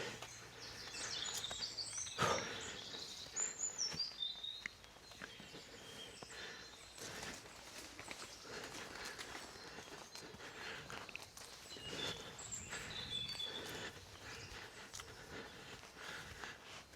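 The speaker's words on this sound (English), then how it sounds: "You can hear lots of, well, several blackcaps and a song thrush." Several blackcaps and a song thrush sing along a coastal walking path, their bright chirps and phrases fairly faint and mixed with steady footsteps and outdoor rustle.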